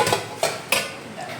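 Home-cooked rice, fish curry and fried koi fish are served onto a plate, with three sharp metallic clinks of a serving spoon against the dish over a quiet kitchen.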